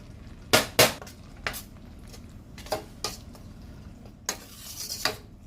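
Half-cooked fresh crushed tomatoes are tipped into a cooking pot and stirred, giving a handful of sharp utensil scrapes and clanks spaced over a few seconds against a low background hiss, with no talking.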